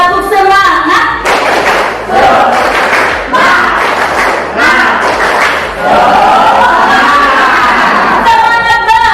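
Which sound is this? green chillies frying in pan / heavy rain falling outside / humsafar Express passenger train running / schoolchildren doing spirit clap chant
schoolchildren doing spirit clap chant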